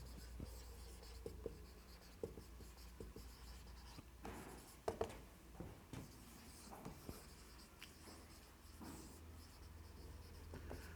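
Pen scratching across paper while a chemistry definition is written out in a quiet room, with soft, steady strokes and a few sharper taps where the pen lifts and lands.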